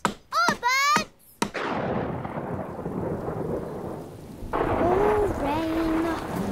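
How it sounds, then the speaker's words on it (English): Cartoon rain pours steadily with a rumble of thunder in a Miffy animated series. Bright high voices speak before it starts and again over the rain near the end. "Oh, rain."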